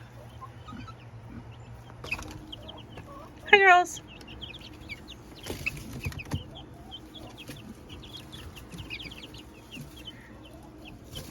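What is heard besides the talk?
chickens clucking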